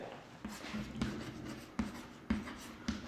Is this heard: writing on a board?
yes